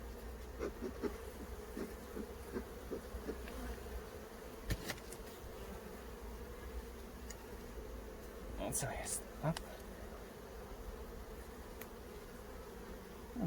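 A steady, dense hum of many buzzing bees close by, with a few sharper clicks and brief louder passes around the middle.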